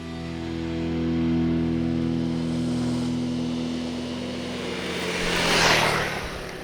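Honda CRF300 Rally motorcycle engine accelerating, a steady droning hum that swells gradually before a brief louder burst near the end, heard alone without talk.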